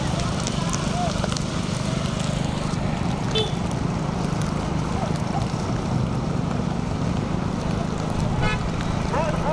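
A car moves along a road at a rural bull race, its engine and traffic noise blending into a loud, steady wash of crowd noise and voices throughout.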